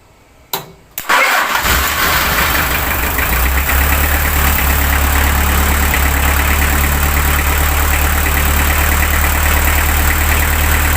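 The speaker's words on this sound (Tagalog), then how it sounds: "i-start ko yung makina." A car engine cranks over after a couple of brief clicks, catches, and settles into a steady, loud, low rumbling idle that continues to the end.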